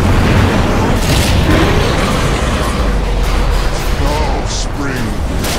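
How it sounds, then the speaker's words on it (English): Explosive booms and rumbling battle effects from a Dota 2 match as Radiant's bottom tower comes under attack, loud and continuous throughout with a steady low roar. "Radiant's bottom tower is under attack."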